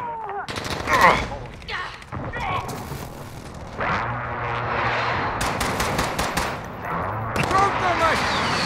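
Call of Duty Modern Warfare 2019 match at Atlas Superstore, hardcore team deathmatch: loud, close bursts of automatic gunfire and heavy booming blasts come in rapid clusters, with game voice callouts and player talk mixed in throughout.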